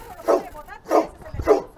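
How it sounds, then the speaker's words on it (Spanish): A small dog gives three evenly spaced, close barks in under two seconds, set against outdoor background noise. "¡Ay, un perrito!"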